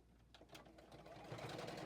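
A JUKI sewing machine stitching the seams of a fabric basket with fusible fleece, giving a brief, faint, steady motor hum and needle patter at close range.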